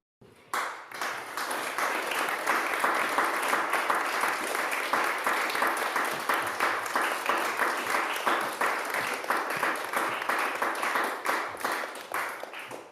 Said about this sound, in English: please do keep the applause going for Ryan